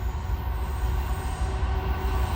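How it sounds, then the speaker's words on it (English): A westbound Norfolk Southern freight train rumbles past at close range, a steady heavy low roar of rolling cars with faint metallic squeal tones above, continuous with no pauses. "it's a Norfolk Southern train going west"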